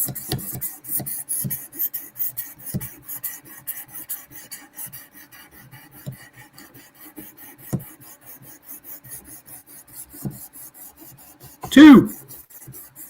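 A knife blade stroked over a 600 grit abrasive on a Work Sharp sharpener, with soft, evenly spaced rasping passes close by and a louder bump near the end; no one speaks.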